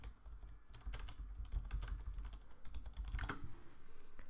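Fingers type on a computer keyboard while numbers are entered in Ableton Live, a quick irregular patter of close, crisp key clicks over a soft low background, with no voices.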